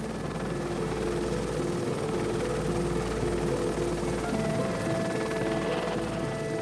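A helicopter flying low over the Kenyan bush while chasing cheetahs, its engine and rotor making a loud, steady drone with humming tones that runs unbroken through the whole stretch.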